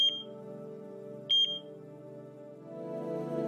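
Heart monitor machines in the video game Chaos;Child give short, high electronic beeps, one at the start and a quick double beep soon after, over soft sustained background music.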